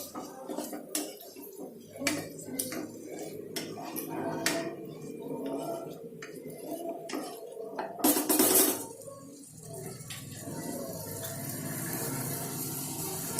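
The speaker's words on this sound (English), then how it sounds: "Let's add 2 finely chopped tomatoes into it. Mix it very well" Chopped tomatoes being mixed in a pan for dhaba-style chicken curry: a quick series of clinking metal spoon strikes against the pan, then a brief loud rush and a softer steady sizzle, close and with no talk.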